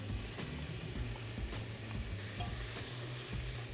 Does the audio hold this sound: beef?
yes